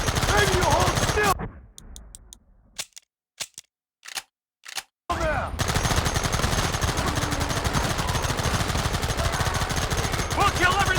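Gunfire in Red Dead Redemption: loud, sustained rapid shooting, then a near-silent gap broken by a few isolated sharp shots, then dense continuous fire again until the end.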